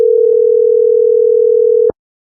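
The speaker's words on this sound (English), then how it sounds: "It's ringing again." An outgoing telephone call gives a single steady ringback tone lasting about two seconds, loud and close, cutting off abruptly with a click.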